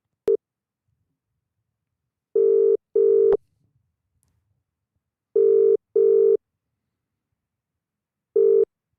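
Telephone call placed to a Bulgarian number: bursts of a steady electronic ring tone come in pairs, with a brief click at the start and gaps of silence between them.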